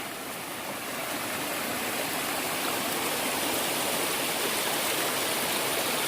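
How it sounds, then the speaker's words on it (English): Babbling brook in the woods along a hiking trail: a steady, close rush of flowing water, loud and continuous throughout, with no voices. "It's a babbling brook."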